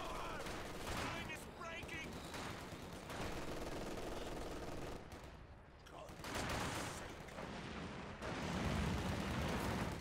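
Machine gun bursts in the Company of Heroes 2 strategy game, dense rattling fire mixed with other gunfire and explosions, continuous and busy, under a voice casting the match.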